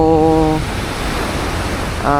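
Waves wash against a dolomite sand beach on Manila Bay in a continuous broad surf roar. Brief tonal sounds rise over the rush at the start and again at the end.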